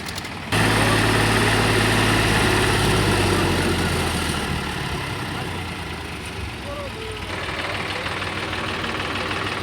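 A Standard 335 tractor engine idles steadily at a tractor market, a low continuous rumble close by that carries through the whole stretch, with people talking over it.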